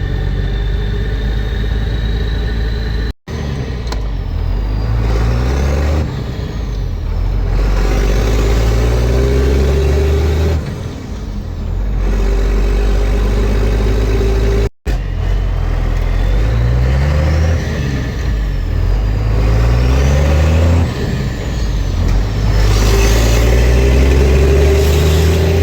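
Cummins diesel truck running steadily and pulling through gears, a deep engine drone rising and falling as it accelerates repeatedly, loud and close with brief cuts in the sound and no talking.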